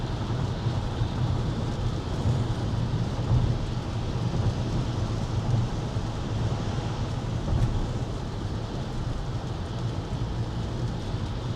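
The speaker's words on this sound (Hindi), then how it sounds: "आज देखिए ये बारिश हो रही है" Steady rain sounds on a car driving along a foggy highway, with broad continuous road and tire rumble and a constant hiss of water and no speech.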